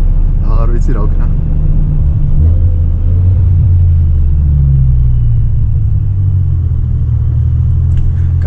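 A BMW M5 on winter tyres drives through snow, its engine giving a loud, steady low rumble close by that rises and falls slightly over the whole stretch.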